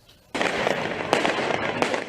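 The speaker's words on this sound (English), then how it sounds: "Fireworks turned into weapons as protesters launched them at riot police and buildings across France." Fireworks launched by protesters at riot police during street unrest in France burst into a loud crackling barrage after a brief quiet start, with sharp pops and bangs scattered across the rest.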